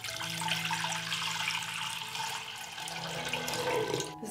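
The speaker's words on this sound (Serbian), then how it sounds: "Moj ekspres lonac je zapremine 6 litara i sipat ću litar vode." A litre of water streams steadily into a 6-litre pressure cooker with a continuous close splashing rush that runs nearly the whole time and tails off at the end.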